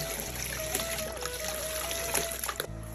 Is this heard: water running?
yes